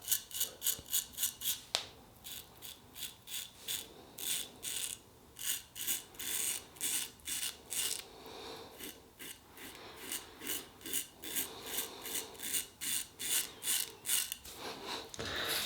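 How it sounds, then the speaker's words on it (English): A 1930s GEM Micromatic single-edge open comb razor shaving through lather of wool fat soap, close rhythmic rasping strokes in quick bursts with short pauses between. "Here we go, first pass using the gem, Micromatic, and the gem blade."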